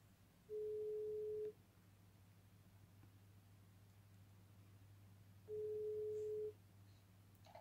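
A Swedish phone call rings out: two steady one-second ringback tones about five seconds apart over a low hum, with no talking.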